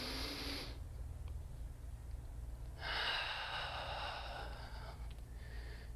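A deep yoga breath, faint and close: a long airy inhale, a pause, then a slow breathy exhale over a low steady hum, with no talking.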